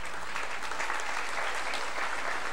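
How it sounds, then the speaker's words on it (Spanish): An outdoor crowd at an Indigenous council swearing-in ceremony gives sustained applause, a thick and even wash of clapping from many hands, moderately loud and unbroken. "también un aplauso para el Dante"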